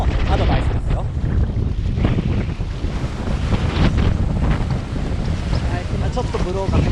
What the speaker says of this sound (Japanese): 今ちょっとブローが入ってきました。